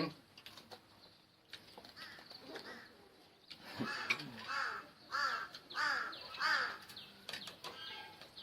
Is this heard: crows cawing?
yes